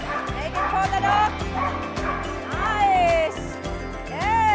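A dog gives short yips and whimpering barks during an agility run, with a person speaking encouragingly nearby and shuffling movement around.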